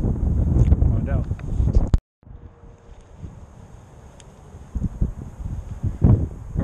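Wind gusting across an open shoreline on a sledding and hiking outing, a steady rushing noise that buffets the microphone, loud at first and then easing, with a brief dropout and surf-like surges, under occasional talk.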